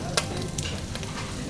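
Prawn fry stirred in a hot pan during home-style Hyderabadi cooking, giving a steady close sizzle with scraping stir strokes and a sharp clink near the start.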